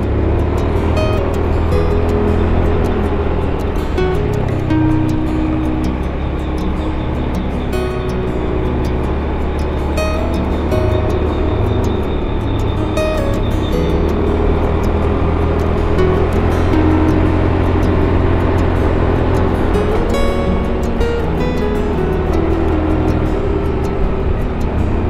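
Steady low engine hum and tire rumble from a vehicle cruising along a smooth, slippery rural village road from Likupang to Dimembe, continuous and fairly loud with no talk.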